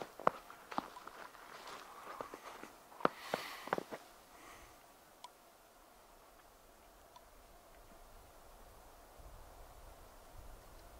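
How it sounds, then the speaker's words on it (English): Footsteps crunching and squeaking in fresh snow on a hike at Chiricahua National Monument in southern Arizona, a few close crisp steps in the first four seconds, then near silence in a quiet snowy landscape. "I hear my footsteps squeaking in the snow"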